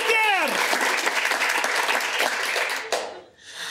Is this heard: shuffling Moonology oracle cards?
no